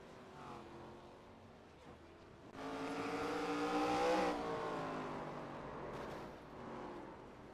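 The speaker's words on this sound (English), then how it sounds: "Yes, I'm spinning, so I'm just going to go ahead and light the tires up." An ARCA race car in the iRacing video game spins its tires in a burnout, with the engine revving up to a loud, rising whine before easing off. The sound comes through as quiet game audio.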